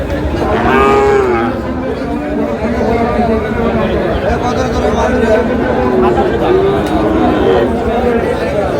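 A Sahiwal bull calf moos loudly and close at a busy cattle market, with a long harmonic call near the start and further lowing, under steady crowd chatter and bargaining voices.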